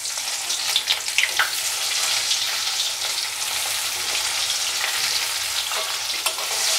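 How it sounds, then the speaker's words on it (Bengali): Onions fry in oil left over from frying fish in a pan, a steady, loud close sizzle with occasional crackles and light stirring, no talk. "পেঁয়াজগুলো একটু লাল করে ভাজা ভাজা করে নিতে হবে।"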